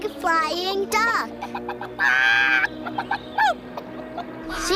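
A cartoon chicken clucks in a children's reading show, a few bright squawking bursts mixed with a child-like voice over a steady musical background.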